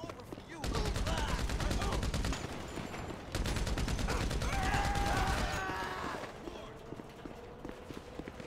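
Rapid gunfire bursts in the video game GTA 5, dense crackling volleys in two long stretches before easing off, with a player's voice talking over the shots.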